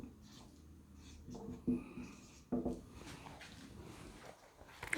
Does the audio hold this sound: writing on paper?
yes